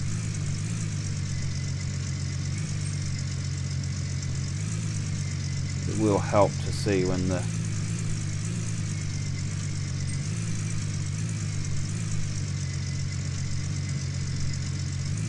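In Gold Rush - The Game, a truck engine idles with a continuous low rumbling drone. Someone talks briefly over it midway.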